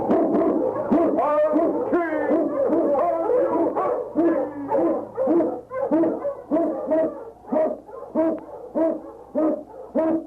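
A pack of Eskimo sled dogs in an old radio drama barks and howls in rapid, overlapping bursts, loud and close, with a continuous chorus of yelps and wavering howls lasting throughout, no talk.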